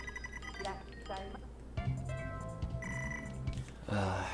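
A phone's text message notification chimes a few times, bright ringing tones over a steady background hum, with no one speaking.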